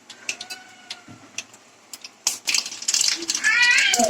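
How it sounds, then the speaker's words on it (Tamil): Mustard seeds splutter in hot oil, first as scattered sharp pops and crackles, then building into a dense, louder sizzling crackle toward the end. "கடுகு பொரியட்டும்"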